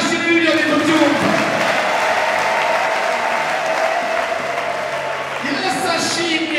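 A church congregation gives God a loud, continuous round of applause that fills the room, with voices calling out over the clapping.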